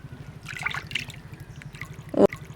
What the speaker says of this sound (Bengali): তাই খুব ভালোভাবে ধুয়ে নিচ্ছি